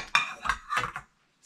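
Smaller and larger emerald metal pans, cleaned up for resale, clinking and clattering as they are handled, with several close, bright knocks in quick succession and then a brief silence.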